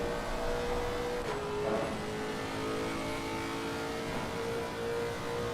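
Lexus GT race car engine in the sim racing game Assetto Corsa Competizione during a Nordschleife 24-hour race, a steady droning engine note with a brief gear-shift dip, continuous and fairly close, no talking.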